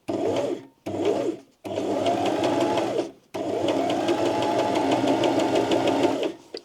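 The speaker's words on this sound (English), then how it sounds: "here we're just gonna do a quick straight line stitch" A sewing machine runs a straight line stitch in short bursts, its rapid steady mechanical whirr starting and stopping several times before one longer continuous run, close and clear with no talk.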